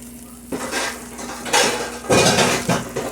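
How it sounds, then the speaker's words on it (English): A metal pan lid clanks and scrapes on a pan while French toast sizzles underneath. Several loud, close bursts of contact noise sit over a steady frying hiss, with no talking. "Get my lid"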